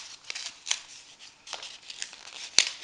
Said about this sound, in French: Et donc la deuxième enveloppe qui est comme ceci, on va l'ouvrir.